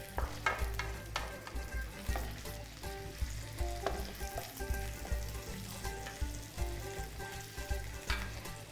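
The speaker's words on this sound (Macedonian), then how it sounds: "Додека се пржи кромидот" Young onion frying in a small pan for homemade chard sarma gives a steady, close sizzle with stirring scrapes running throughout, and no one speaks.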